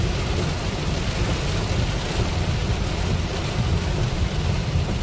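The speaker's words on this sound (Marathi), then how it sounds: "लय जोरात पाऊस आहे, लय जोरात पाऊस आहे. खतरनाक पाऊस आहे. विजा कडकडाट होती." Heavy monsoon rain with thunder on the Konkan coast near Ganpatipule, Ratnagiri, a loud, dense, unbroken roar of downpour with a low rumble underneath.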